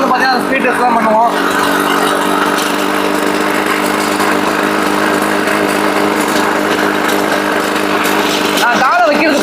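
Small single-cylinder engine of a homemade ATV built from an XL moped runs steadily on a test ride, a buzzy continuous drone throughout with someone talking over it.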